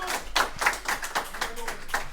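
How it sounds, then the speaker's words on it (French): Audience clapping at a round-table event, several distinct hand claps in a loose, fairly slow rhythm, moderately near and light, like a small group. "Oui, allez, on les applaudit."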